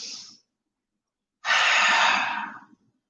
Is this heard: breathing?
yes